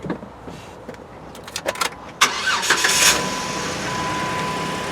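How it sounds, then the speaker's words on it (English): A 2009 Jeep Wrangler engine starts with a few clicks and a whir, then settles into a steady, moderately loud idle hum close by. "The engine, it's not super quiet, but it's not super loud either."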